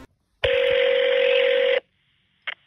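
A telephone dialing a number gives out one loud, sustained electronic tone lasting over a second, followed by silence and then a short faint beep.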